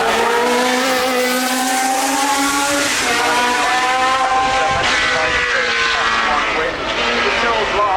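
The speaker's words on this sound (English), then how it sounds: "Matthew Wrigley's driving this Tyrrell at the moment" Loud, high-pitched scream of a Tyrrell 008 Formula One car climbing the Goodwood hill, its engine note rising and falling through gear changes, close and continuous under an announcer's voice.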